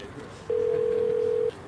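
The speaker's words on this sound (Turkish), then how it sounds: "Arıyorum, arıyorum ama açmıyor." A telephone call goes unanswered, with a single steady ringback tone lasting about a second over faint background voices.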